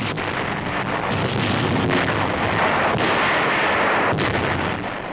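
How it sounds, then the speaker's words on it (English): Continuous rumbling explosions from a World War II Allied bombing raid on Pforzheim, Germany, with blockbuster bombs: heavy booming bursts, loud and dense, a few sharper blasts standing out over a constant roar. "Explosions and fires are sucking the oxygen from the air."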